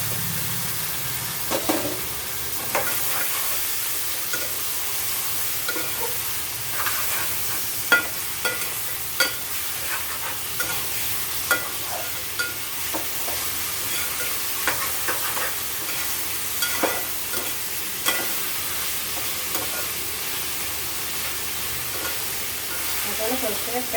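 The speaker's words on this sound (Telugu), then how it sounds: "మటన్ కొంచెం ఫ్రై చేసుకోవాలి ఆయిల్లో." Half a kilo of marinated mutton fries in oil in a pan, a steady close sizzle broken by regular scrapes and clinks of stirring, with occasional voices in the background.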